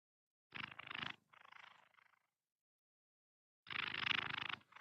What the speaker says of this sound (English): Give some more purrs.